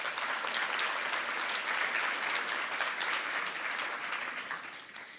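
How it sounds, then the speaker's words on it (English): Sustained, dense applause from a conference audience at a BC renal and transplant update, honoring nurses; steady and fairly faint throughout, tapering slightly near the end. "A clap, please, for them."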